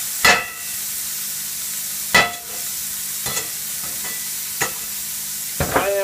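Hamburger meat sizzles steadily in a pan while a utensil stirs and scrapes it in several sharp, close bursts spaced a second or two apart.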